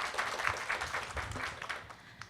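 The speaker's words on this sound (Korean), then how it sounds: "저희 응원의 박수 한번 부탁드리겠습니다." Audience applause at a Korean NGO talk event, a dense, steady patter of many hands clapping through the whole stretch, fairly distant and fading slightly toward the end, with no voices over it.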